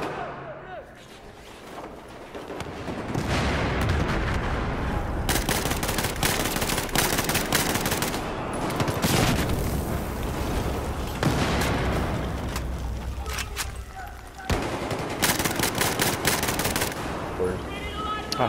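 Battlefield 4 gunfire roars through a firefight: rapid machine-gun bursts and loud overlapping shots keep up nearly without pause, with short gaps between volleys.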